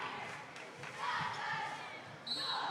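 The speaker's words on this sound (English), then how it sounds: "Every time Barnett hits the ball, it just sounds like a clap of thunder." A volleyball is struck hard by Barnett during a high school match between Mission Veterans and Sharyland Pioneer. Sharp hits ring out over a steady, loud gym crowd, with cheering swelling near the end.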